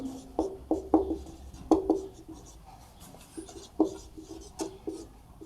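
Chalk strokes scratch across a classroom board in short bursts with pauses between them, an irregular rhythm of writing close by during a Class 12 maths lesson on relations and functions, with no talk over it.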